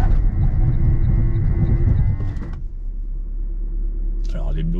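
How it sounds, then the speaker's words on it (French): A car brakes hard from 100 km/h with ABS engaging, a loud, steady rumbling drone that drops abruptly partway through as the car slows, leaving a low hum. "les bruits sont très très flippants lorsqu'on freine. On a tout l'ABS"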